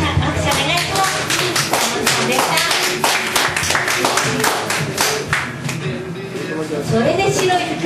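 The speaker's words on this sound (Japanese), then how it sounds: "もう一度皆さん拍手お願いします" An audience at a New Year's Eve live show claps in rhythmic, fairly close clapping, sustained for several seconds with voices mixed in.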